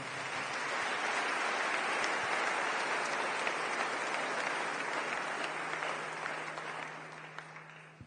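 A church congregation applauds steadily and loudly through the whole stretch, a dense even clapping that thins slightly toward the end, with a low steady hum beneath.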